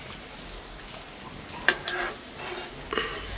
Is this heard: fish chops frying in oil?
yes